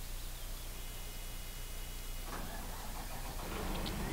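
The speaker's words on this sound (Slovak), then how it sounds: "takže naštartujeme si motor" A Claas Lexion 750 combine harvester engine starting up in Farming Simulator 2013. Low static hum at first, then the engine catches midway and settles into a louder, rough mid-pitched running rumble that builds toward the end.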